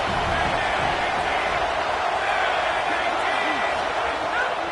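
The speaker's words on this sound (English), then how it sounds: "Decibels rising as the crowd gets behind this defense on third down." A college football stadium crowd roars as the defense lines up on third down in a TCU game, a dense, sustained wall of cheering noise that stays loud throughout, with an announcer's voice over it.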